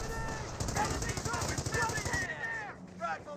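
Rapid bursts of .30 cal machine gun fire in a Company of Heroes battle, loud and continuous for about two seconds before fading, with a spoken commentary voice running over the shooting.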